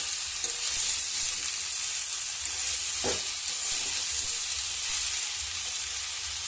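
Fish curry with bottle gourd stems cooking in a pan, a steady broad sizzle and hiss throughout with one brief scrape of a spatula stirring near the middle, no voices.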